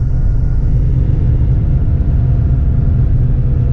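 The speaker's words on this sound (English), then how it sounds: "remind yourself you're driving a 1987 Porsche" A 1987 Porsche Turbo on the move, heard from inside as a loud, steady low engine and road rumble that holds even throughout with no gaps.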